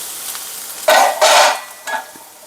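Onions sizzle and hiss in a hot pan in short bursts as they are stirred, loud for a moment then settling to a soft crackle.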